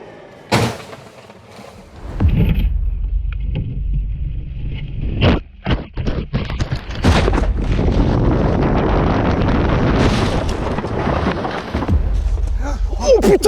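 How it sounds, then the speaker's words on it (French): Wind buffets an outdoor microphone in loud rumbling gusts that come and go, with brief thumps and handling knocks between them. "le vent, c'est un peu levé"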